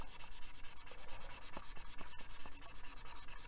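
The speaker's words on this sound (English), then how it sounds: "Just start sanding very carefully." Paint being sanded off a Warhammer 40K Stormwolf Assault Craft model, a close, even scratchy rubbing in quick repeated back-and-forth strokes with no talk.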